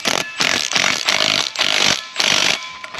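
A power tool drives nuts onto the transmission shaft of a 2016 Jeep Compass 2.4 4x4 fitted with a Hyundai/Kia gearbox, in five loud whirring bursts separated by short gaps, close by with no talking.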